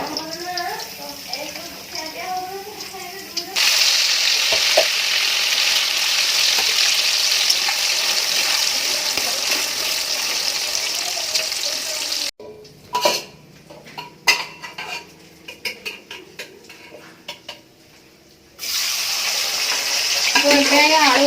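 Potatoes fry in a pan with a steady broadband sizzle, loud and close, broken by clattering utensil and pan knocks, while a voice talks over the cooking.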